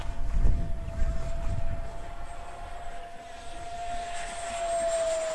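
A 3D-printed F-14 Tomcat model plane flies overhead, its electric motor giving a thin steady whine that holds a near-constant pitch, heard from a distance over faint outdoor wind rumble.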